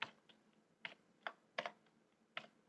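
Sparse computer keyboard keystrokes during a programming session, a handful of separate clicks spread out over a few seconds, including a press of the Enter key, close and fairly quiet with no voices.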